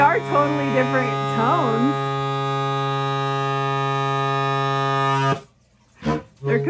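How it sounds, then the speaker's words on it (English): An air horn sounds a deep, sustained foghorn-like tone, loud and close, holding steady for about five seconds before cutting off, with a voice heard briefly over its start. "That's like a deep ship in the night kind of foghorn."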